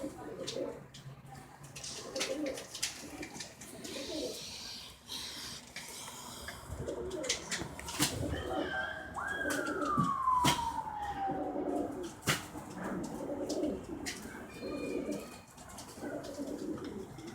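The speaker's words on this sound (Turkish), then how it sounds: "Kuşumuz da uçuyor akşam akşam." A bird coos outdoors on a warm autumn evening in Istanbul, soft repeated calls under a person talking, with a siren wailing faintly in the distance and general street ambience.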